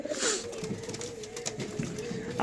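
Giribaz pigeons cooing softly in the background, a low steady murmur with faint rustling and distant voices.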